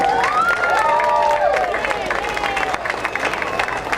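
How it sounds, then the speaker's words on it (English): Applause from an outdoor crowd at the opening ceremony of the 2014 Revere Beach National Sand Sculpting Festival, honoring armed forces members: steady clapping and crowd noise, with voices and whistles mixed in throughout. "you guys need a round of applause"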